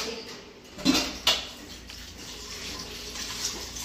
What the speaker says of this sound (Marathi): मी आता भांडी घासून घेते